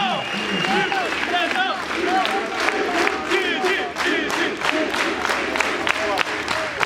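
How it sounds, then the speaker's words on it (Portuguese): A crowd at a national podcast meetup claps and cheers loudly and continuously, with whoops and shouts over the applause. "salve de palmas, Didi Braguinha"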